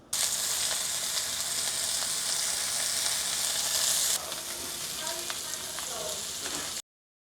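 Gyro meat sears in a hot skillet with a loud, steady, close sizzle that runs throughout, dropping slightly in level partway as occasional soft clinks and stirring sounds come through.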